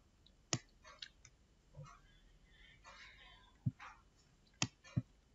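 Sharp computer mouse clicks, single and in quick pairs, spaced irregularly over a few seconds while charting software is used, close and crisp against a quiet background.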